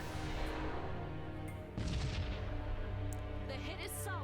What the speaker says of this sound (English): Commencing fire.